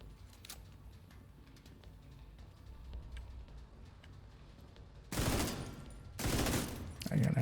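Sustained video-game automatic gunfire emptying a full magazine, two loud dense bursts near the end following a quieter stretch of faint ticks and ambient game sound.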